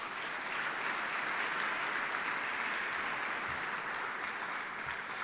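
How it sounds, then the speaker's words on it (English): Audience applause at a military retirement ceremony for an Air Force general, a dense, even wash of clapping from a large crowd, sustained and fairly soft throughout. "let's give a round of applause to my family, please"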